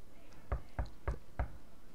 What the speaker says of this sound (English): Let's knock on the door